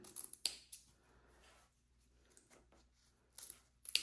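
Scissors trim cloth for a handmade teddy bear in quick, faint snips at close range. Short clusters of cuts at the start and end are separated by soft rustling in a quiet room.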